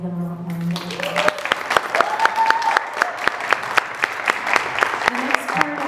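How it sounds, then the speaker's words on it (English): Audience applause for a panel on Missing and Murdered Indigenous Women at Fond du Lac Tribal and Community College: a voice finishes speaking, then a steady wash of clapping with sharp individual claps fills the room. "Could we all give them a round of applause?"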